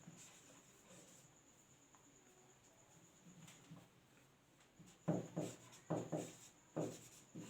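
Pen or chalk writing during a probability lecture, faint scratching at first, then a run of louder close strokes in quick rhythmic bursts near the end.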